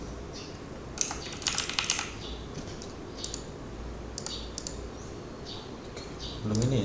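Keys clatter on a computer keyboard as a book entry is typed into an income ledger, bursts of quick taps in short runs over a steady low background hum, with brief speech.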